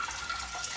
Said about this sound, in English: first of all we fill it with water.